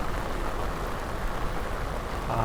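Steady rain falls around a boat during a white bass fishing trip, a constant even hiss without a break and without voices.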